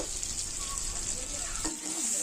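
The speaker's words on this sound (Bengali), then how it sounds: "এবারে ওই তেলের মধ্যেই দিয়ে দেব পটল পটলগুলোকেও একটু লাল লাল করে ভেজে নেব" Pointed gourd (potol) fries in oil in a kadai, giving a steady, close sizzling hiss with a faint stirring movement partway through.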